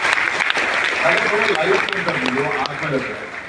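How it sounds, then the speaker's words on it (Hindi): Enthusiastic audience applause at an education event, dense clapping from a crowd with some voices and cheering mixed in throughout. "सर के लिए भी एक बार जोरदार ताली होनी चाहिए"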